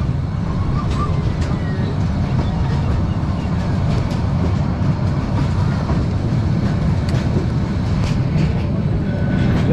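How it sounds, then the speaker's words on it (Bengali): The Cox's Bazar Express train rolls slowly into the Cox's Bazar railway station, a steady loud rumble of wheels and carriages with faint rhythmic clatter, heard from inside the train. "কক্সবাজার এক্সপ্রেস ট্রেনটি ধীরে ধীরে প্রবেশ করছে কক্সবাজারের আইকনিক রেলওয়ে স্টেশনের ভিতরে।"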